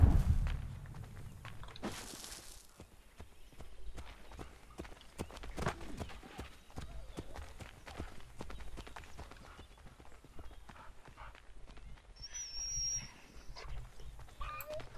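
In Assassin's Creed III, a dog is led through a town with continuous light footsteps and hoof-like clip-clop sounds, plus faint background game ambience.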